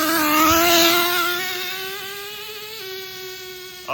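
A small nitro engine on an old Traxxas T-Maxx 3.3 RC truck, running poorly, buzzes loudly with a high, whiny drone, its pitch sagging then stepping back up, with no voices present.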